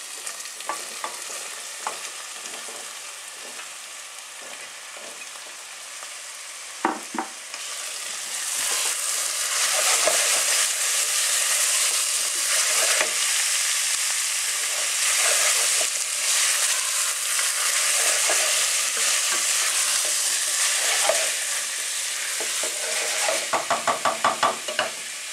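Courgettes frying and being stirred in a pan for courgette and raisin chutney, a steady close sizzle that swells after the first few seconds, with occasional scraping and clinking stirs and no talking.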